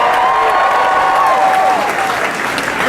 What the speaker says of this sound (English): Give Brian a big round of applause for the introduction.